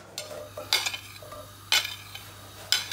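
Onions sweat in a pan for jollof rice, a soft steady sizzle broken by three distinct scraping stirs of a utensil against the pan, with no talk.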